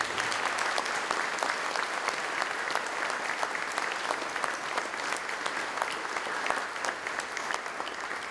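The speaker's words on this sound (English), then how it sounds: "Let's give them all a round of applause." A crowd applauds steadily at a firefighter recruit class swearing-in ceremony, a dense patter of many hands clapping at an even level throughout, with no voices rising above it.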